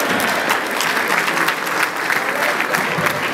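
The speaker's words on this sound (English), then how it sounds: "He deserves a standing ovation." Audience at a TV launch event in Abuja giving a standing ovation, a dense, steady roar of applause from a large crowd, loud and continuous throughout with no talk above it.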